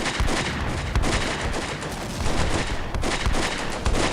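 Dense fusillade of small-arms and machine-gun fire crackles continuously in a Combat Mission: Beyond Overlord battle at La Fiere, with sharp overlapping bursts and low booms, loud and unbroken throughout.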